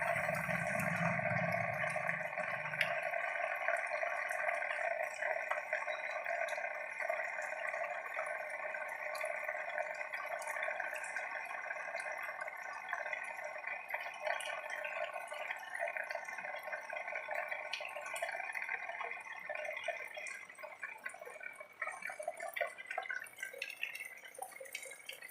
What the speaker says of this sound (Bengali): আমাদের হেব্বাল দশরালিতে বৃষ্টি হচ্ছে।